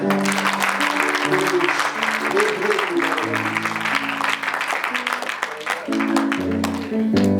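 A church congregation breaks into sustained applause and cheering, a dense crowd clapping continuously for several seconds under music and loud voices.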